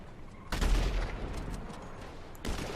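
Burst of gunfire in the GTA 5 video game, a loud broadband volley starting abruptly, sustained for about two seconds, then a second burst near the end.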